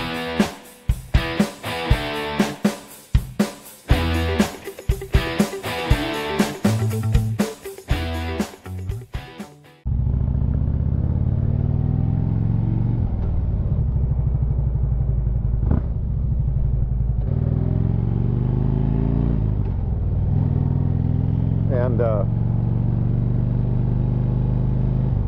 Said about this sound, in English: I think I'm just going to hop on this girl